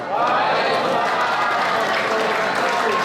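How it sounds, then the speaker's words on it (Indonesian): Dense, steady applause from a large crowd, continuous clapping filling the whole stretch without letting up. "Boleh berikan tepuk tangan yang paling meriah"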